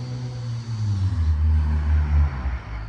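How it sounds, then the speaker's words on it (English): A small car's engine drones loudly and steadily at close range, a low rumbling roar with shifting tones that holds throughout without any talk. "Awful lot of noise for not a lot of car."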